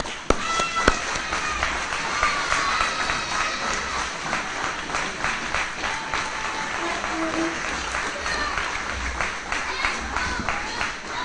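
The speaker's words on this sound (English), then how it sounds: "Everybody, please give a round of applause to Mr. Scott Niffen." A gathered audience at a Peace Day event claps to welcome an incoming county judge, a steady moderate applause with some distinct nearby claps and faint crowd murmur underneath.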